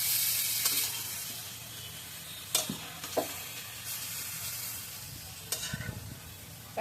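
Curry with yogurt stirred in a frying pan, a constant sizzle with several spoon scrapes and knocks against the pan spaced a few seconds apart, close and moderately loud.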